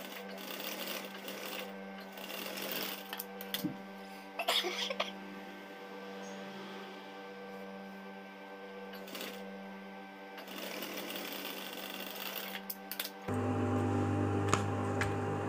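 A sewing machine stitches a pocket onto fabric with a steady close mechanical hum, broken by a few clicks and brief pauses, and ends in a slightly louder change of tone.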